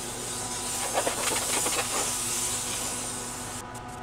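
An aerosol can sprays a second coat of silver paint onto an R2-D2 dome, a steady hiss with a few short bursts and pulses, then a sharp cut-off near the end.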